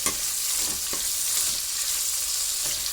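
Onions sauté in a hot pan with a loud, continuous sizzle and crackle, close up and steady throughout, with soft stirring scrapes.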